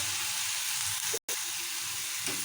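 Thinly cut carrot pieces, cabbage and sweet corn fry in a pan for oats upma, giving a steady, loud broadband sizzle that cuts out briefly midway before resuming.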